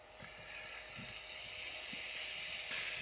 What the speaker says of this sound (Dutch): Even lekker aanbakken, hè?